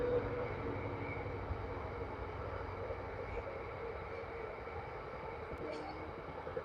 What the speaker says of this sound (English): class 59 on its way with a stone train